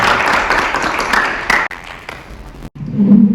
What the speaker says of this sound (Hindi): And it's big round of applause, please.